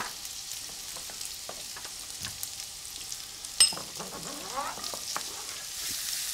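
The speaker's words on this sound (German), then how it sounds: "Es kommt Zwiebel dazu." Chopped onion frying in a pan with fat, giving a soft, quiet sizzle in the background, with scattered small clicks and one brief sharper clatter midway.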